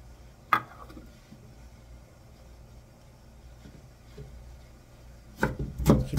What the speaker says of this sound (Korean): 김치를 송송송 썰어줍니다.